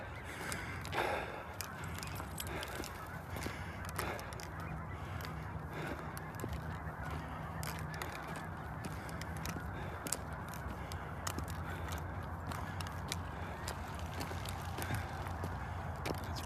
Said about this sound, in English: I'm surprised Chase hasn't seen all those ducks down there